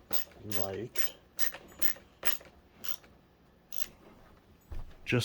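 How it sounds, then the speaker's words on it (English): A screw is tightened into the handle of a Bissell CleanView Swivel Pet vacuum, a series of close ratcheting clicks and creaks in a steady rhythm, about nine turns with a brief quiet pause. "So we're just going to tighten that screw into place"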